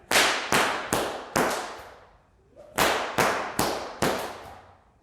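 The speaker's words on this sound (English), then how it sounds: "Make sure you can get them cleanly and every crack is making a nice loud bang." Sharp whip cracks ring out in two quick bursts of four, each crack a loud snapping bang with a short decaying tail and a brief pause between sets.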